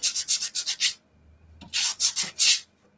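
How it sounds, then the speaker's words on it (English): Rapid rhythmic scraping of a gator sanding tool rubbing back and forth over the edges of an acrylic painting in two bursts, with a short pause between them, close and fairly loud. "This is called a gator sanding tool."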